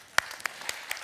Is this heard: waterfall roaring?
no